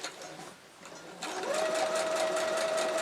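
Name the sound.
sewing machine stitching flying geese quilt blocks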